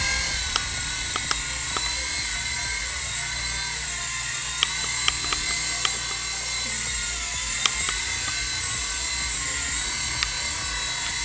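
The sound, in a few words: toy remote control helicopter flying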